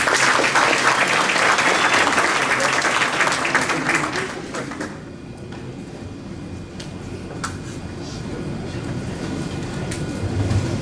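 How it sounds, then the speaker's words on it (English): Applause from a crowd at an athletic banquet rings out strong and full, then thins into lighter clapping and the murmur of the room. "So if y'all give him a round of applause."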